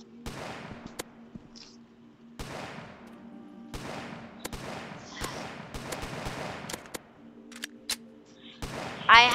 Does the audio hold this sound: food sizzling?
no